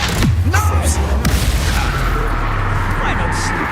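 A fire spell cast in the Hogwarts Legacy video game, a loud booming, crackling burst of magic over dense, busy game combat noise.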